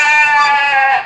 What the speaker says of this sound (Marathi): काय रे इकडं बकऱ्या आल्या.